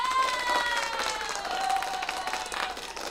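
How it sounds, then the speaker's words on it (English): A live music stream crowd cheers and claps steadily throughout, with shouts and tonal whoops layered over continuous dense applause, fairly loud and close. "And applause to you all."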